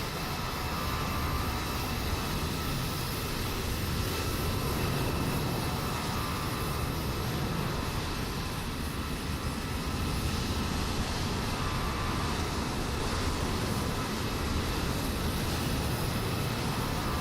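A Boeing 787-10 airliner landing in Microsoft Flight Simulator 2020 fills the stretch with a steady, loud broadband jet engine roar and rushing air, constant throughout with no pauses or voices.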